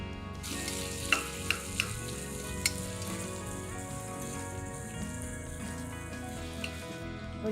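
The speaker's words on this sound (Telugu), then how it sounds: "టపటప అంటూనే ఉల్లిపాయలు వేసేద్దాం." Onions frying in oil for a pressure-cooker veg biryani give a steady, soft crackling sizzle with a few sharp pops near the start. The frying sits under a tonal background hum, and there is no talk.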